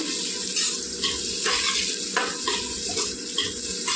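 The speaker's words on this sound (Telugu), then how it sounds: "ఎర్రగా ఏగనివ్వాలండి ఉల్లిపాయలు నూనెలో" Onions frying in oil for mutton curry make a steady, close sizzle, broken by repeated scraping stirs of a spoon in the pan, with no voices.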